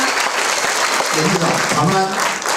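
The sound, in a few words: audience applause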